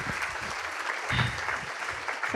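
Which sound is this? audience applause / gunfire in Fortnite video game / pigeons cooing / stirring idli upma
audience applause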